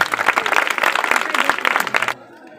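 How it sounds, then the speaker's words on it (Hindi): Children clapping together to welcome a guest at an encouragement event, a dense burst of applause lasting about two seconds before stopping abruptly. "आप लोग तालियों से स्वागत करें बच्चों।"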